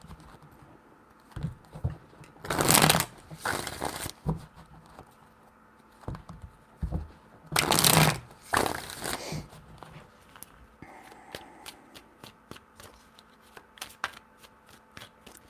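Tarot cards being shuffled close up in several quick riffled bursts, separated by softer taps and handling clicks, with no talking.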